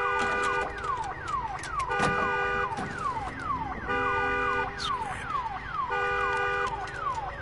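Wailing siren from the video game Days Gone, rising and falling in repeated sweeps layered with steady alarm tones, loud and continuous with no talk.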